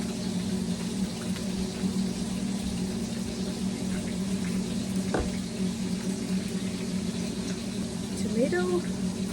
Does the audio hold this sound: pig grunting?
no